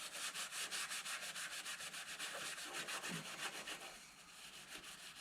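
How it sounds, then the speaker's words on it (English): SOS pad scrubbing rust off a car body in quick, steady back-and-forth strokes, a close, rhythmic abrasive rubbing with no speech. "You see how SOS pads, guys, takes the rust off?"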